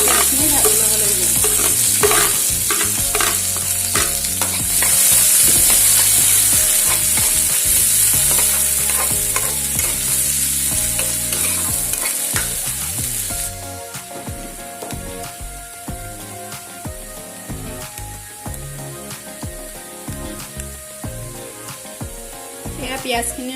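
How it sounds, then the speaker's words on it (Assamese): Sliced onions fry with bay leaves in hot oil for a chana dal tadka, giving a loud, steady sizzle with scraping stirs that settles into a quieter crackle partway through. "পিয়াজখিনি অলপ ৰঙচুৱা কৰালৈকে পিয়াজখিনি ভাজি ল'ব লাগিব"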